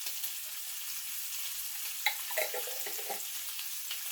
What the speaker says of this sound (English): I'm getting some nice color to that sausage now. So I'm going to add about a half of an onion.